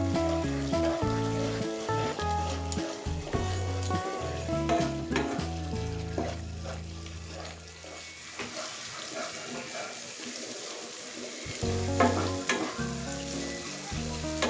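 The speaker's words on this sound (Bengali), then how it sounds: "গ্যাসের ফ্লেমটা লো রেখে টক দই মশলার সাথে মিশিয়ে নেব।" Yogurt and spice masala frying on a low flame in a chicken kofta curry, stirred steadily: a loud, sustained sizzle and bubbling with stirring scrapes over a continuous tonal background.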